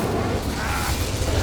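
Incendio fire spell cast in the Hogwarts Legacy video game: a loud, continuous roaring whoosh of flame and blast that fills the whole moment without pause.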